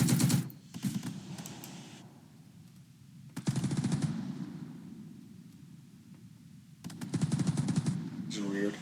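Simulated machine gun fire from the Second Front wargame, heard as several loud bursts of rapid rattling shots separated by quieter gaps, with a low rumbling background between them.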